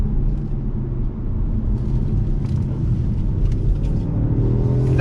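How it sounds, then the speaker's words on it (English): A 2020 Jaguar XE R-Dynamic sport sedan brakes hard and downshifts on a track, a steady loud engine rumble from inside the cabin with the revs rising near the end. "Let's see how she brakes. On the brakes, downshift."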